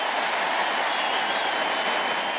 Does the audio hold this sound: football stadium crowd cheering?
yes